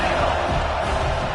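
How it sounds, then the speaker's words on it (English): A football stadium crowd at a Division 2 playoff game roars continuously behind the defense on third down, a dense, loud, sustained wall of cheering with a commentator's voice mixed in. "Decibels rising as the crowd gets behind this defense on third down."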